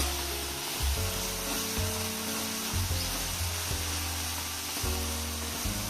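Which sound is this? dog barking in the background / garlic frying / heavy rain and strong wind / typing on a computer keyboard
garlic frying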